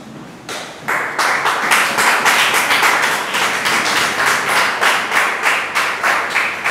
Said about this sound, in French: Ce côté les mains, on va acclamer.